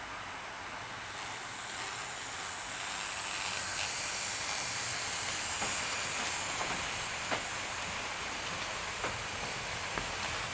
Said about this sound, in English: Emily the Sterling single with a small passenger train.